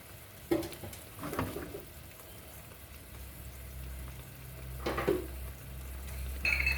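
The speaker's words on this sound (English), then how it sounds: "we're also going to add about half a cup of tomato puree" Tomato puree poured into a sizzling salmon curry (meen curry) in a pan, giving a low steady frying sizzle with a few soft stirring scrapes and splashes near the start and again near the end.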